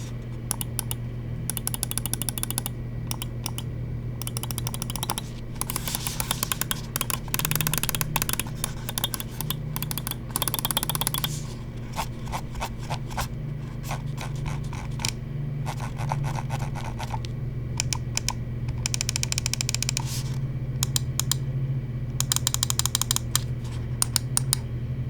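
Button clicks from a Lamzu Paro Aurora ergonomic gaming mouse, with rapid bursts of crisp, close clicking over a steady low background hum and no speech.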